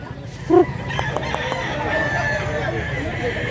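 A rooster crows once, fairly close and loud, with a low steady background hum and faint voices around it.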